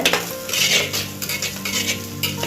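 Three slit green chillies being sautéed and stirred in a pan for a soya chunk curry, with close metallic scraping and clinking of a spoon against the pan over a light sizzle, no talk.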